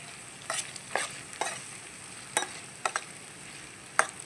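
Tomatoes and curry leaves cooking in a pan with ginger-garlic paste and onion, a faint background sizzle punctuated by several sharp scraping stirs of a utensil against the pan, no voices.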